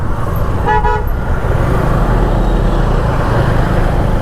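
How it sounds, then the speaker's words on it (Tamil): A single short car horn honk sounds close by near the start, then steady traffic rumble and engine noise carry on. "எதுக்கு ஹார்ன் அடிச்சிட்டே இருக்கான்?"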